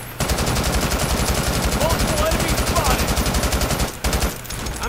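Rapid automatic gunfire in the Brink shooter game, a dense continuous burst of shots for several seconds with a brief pause near the end before firing resumes, loud and close.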